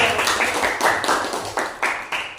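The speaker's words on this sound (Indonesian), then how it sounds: "Ya, tepuk tangan untuk diri." A group of teachers claps in short, uneven bursts, several rounds of hand claps in quick succession during a training session, close and moderately loud.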